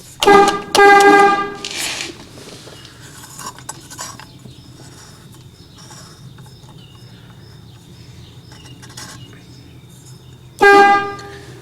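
A 1940 Chevrolet horn blares in several loud, tonal honks, two bursts at the start and one at the end, separated by quiet stretches of faint metallic handling and clicks.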